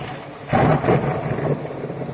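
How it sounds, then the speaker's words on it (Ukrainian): Thunder rolls outside during a rainstorm, a sudden broad rumble swelling after half a second and fading slowly over the steady hiss of falling rain. "а в нас на вулиці гроза. І є дощ."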